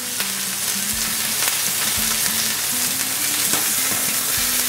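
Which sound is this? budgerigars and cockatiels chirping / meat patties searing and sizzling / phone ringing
meat patties searing and sizzling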